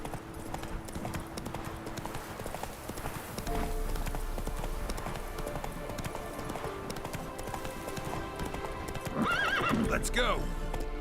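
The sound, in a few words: horse Roach galloping and neighing in video game Witcher 3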